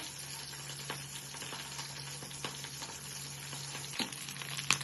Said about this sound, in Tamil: மிளகா நம்ம நல்லா பொறிஞ்சதுக்கப்புறம் கைப்பிடி அளவு கருவேப்பிலை போட்டுக்கலாம்